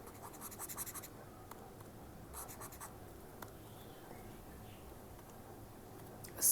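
A pen scratches out a chemical formula for benzoic acid on a writing surface during a chemistry lesson, with short bursts of quiet strokes separated by pauses, close and faint.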